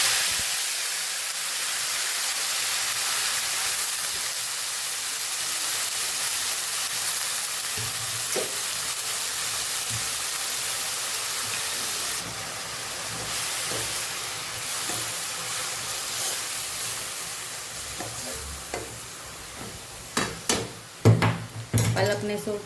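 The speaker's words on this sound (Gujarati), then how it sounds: "પાલકને થોડી સાતળી લેવાની છે" Spinach sautéing in a pan with browned garlic for a Kathiyawadi palak dish, a steady close hiss and sizzle of frying throughout, with scattered clinks and scrapes of a utensil against the pan toward the end.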